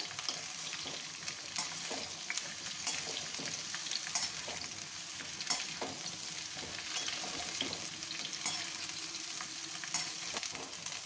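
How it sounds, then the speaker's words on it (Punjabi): Cauliflower frying in a pan for a dhaba-style aloo gobi, a steady dense sizzle with scattered crackles and pops running the whole time, close and fairly loud, no voices. "ਗੋਭੀ ਨੂੰ ਵੀ ਹੁਣ ਅਸੀਂ ਹਲਕਾ ਸੁਨਹਿਰੀ ਰੰਗ ਹੋਣ ਤੱਕ ਫਰਾਈ ਕਰ ਲਾਂਗੇ"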